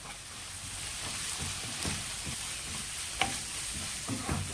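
Turmeric and chilli powder sauté in an oiled pan with a constant soft sizzle, broken by occasional scraping stir strokes; the sound is fairly quiet and there is no talking.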